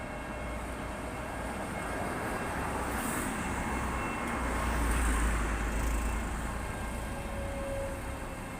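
Steady low rumble of a Sheffield Supertram on the yellow line rolling past in the city centre, swelling slightly as it nears, with distant city traffic noise around it; no voices.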